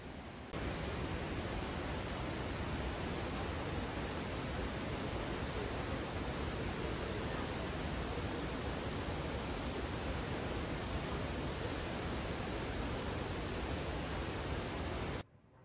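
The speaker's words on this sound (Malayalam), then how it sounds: "അത് പെട്ടെന്ന് തന്നെ കരിങ്കല്ലും പാറക്കല്ലുകളെല്ലാം നിറഞ്ഞ ഒരു ചെങ്കുത്തായ ഭാഗത്തൂടെ അതിവേഗം ഒഴുകിപ്പോകുന്നതാണ് നമ്മൾ വാഴച്ചാലിൽ കാണുന്ന വെള്ളച്ചാട്ടം" The Vazhachal waterfall on the Chalakudy river rushes over granite boulders down a steep rocky stretch, a dense, unbroken roar that holds steady and loud for the whole span before cutting off abruptly at the end.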